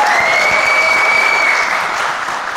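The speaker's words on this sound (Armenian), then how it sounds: "Մեր հյուրերին բարձր ծափարենք։" A studio audience bursts into loud, sustained applause for the guests of an Armenian evening talk show, steady and dense throughout, with a faint tonal whistle running above it before the clapping eases slightly at the end.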